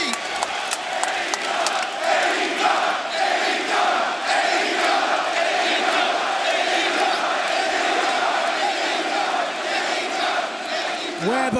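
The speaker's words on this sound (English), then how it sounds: "listen to this crowd. Newark, New Jersey is on its feet." A packed wrestling arena crowd in Newark, New Jersey roars on its feet, a loud sustained wall of cheering, whooping and shouting that never lets up from start to finish.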